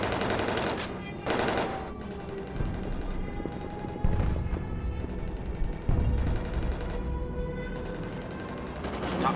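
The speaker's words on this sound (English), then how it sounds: "Top turret fires at him." A B-17 Flying Fortress top turret machine gun fires at an attacking fighter on a 1944 bombing run, with loud rapid bursts over engine drone and heavier booms in between.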